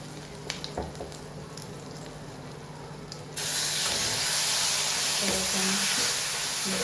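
Cumin, asafoetida, crushed garlic, ginger and chilli dropped into hot oil, bursting into a sudden loud sizzle partway through and hissing steadily after, close up, with a few clinks before and faint talk under it.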